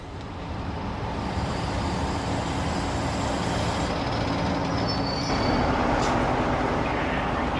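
Night mail train rumbling steadily, a continuous loud roar of wheels and engine with rushing broadband noise throughout.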